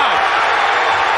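Dense roar of a packed boxing arena crowd in San Francisco during a championship bout, loud and continuous with no pause, a voice faintly mixed under the cheering.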